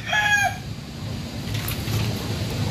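A Rhode Island Red rooster on a poultry farm lets out a short, strained call at the start, followed by quieter rustling and a faint final cluck.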